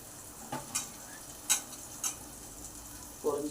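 Food frying in a pan during morning breakfast cooking: a faint, steady sizzle with a few sharp clicks and taps from stirring scattered through it.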